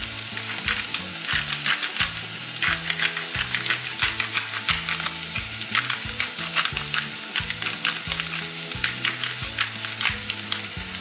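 Jackfruit curry with turmeric, pepper and spices is stirred in a pan, steady sizzling under repeated scraping and clinking strokes of the spoon against the pan, close and continuous.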